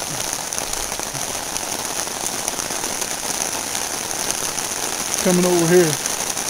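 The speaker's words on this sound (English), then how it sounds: "As you can see, it is a downpour" Heavy rain pours down on a rural road in Sparta, North Carolina, a steady, dense hiss of drops on surfaces that fills the whole scene, with a brief spoken remark near the end.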